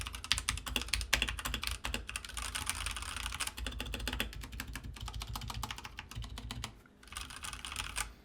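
Fast typing on a Redragon K530 60% mechanical keyboard with brown switches, a dense stream of close clacky keystrokes with a brief pause before the typing resumes.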